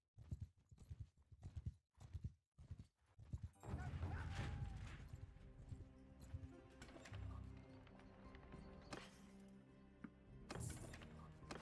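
Horse hooves clip-clop in a rapid, steady rhythm in the medieval combat game Mount & Blade II: Bannerlord, loud and close at first, then the galloping continues under a busy wash of game ambience and other effects.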